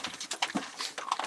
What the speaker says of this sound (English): I hope you can hear me over my dog. He's enjoying his dinner as well